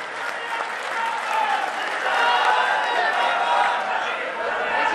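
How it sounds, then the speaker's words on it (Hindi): A crowd at a political gathering applauds to welcome Vasundhara, dense continuous clapping mixed with crowd noise and chatter throughout. "जोरदार तालियों से आपका स्वागत।"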